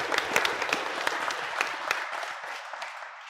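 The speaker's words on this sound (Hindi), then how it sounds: "अपने माता पिता के लिए जोरदार तालियां बजाओ।" Students in a classroom applauding loudly, a burst of many quick handclaps with sharp individual slaps, strongest at the start and thinning out as it dies away.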